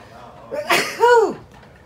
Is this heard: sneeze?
yes